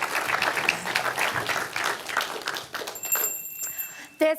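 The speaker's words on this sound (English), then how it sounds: "Give her a round of applause." Audience applause for a presenter at a startup pitch event, broad and steady at first, then thinning out as a bright ringing tone enters near the end.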